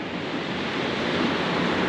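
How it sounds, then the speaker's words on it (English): Calm ocean waves washing and splashing against pitted shoreline rocks, a steady broadband rush of surf with light wind noise, continuous and fairly close throughout. "The waves are really calm and they're only splashing up in a couple different areas, like right there."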